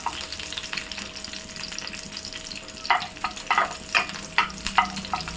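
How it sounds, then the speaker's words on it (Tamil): Rose petals fry in hot ghee with a steady close sizzle, joined near the end by a series of sharp stirring scrapes and taps in the pan. "சூப்பராக பொரியுது நெய்யில், அந்த ரோஜா இதழ் பொரியுது"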